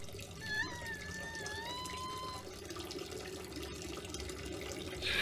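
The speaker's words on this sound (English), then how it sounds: "now I'm gonna go pee in the game" A video-game character peeing, a faint steady trickle of liquid like water splashing into a toilet, continuous for several seconds under a low background, with a brief whistly tone near the start.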